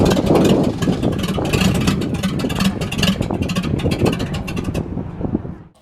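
A factory AMC Spirit AMX race car's engine revs hard and close with a rough, pulsing burble, rising and falling before cutting off abruptly near the end.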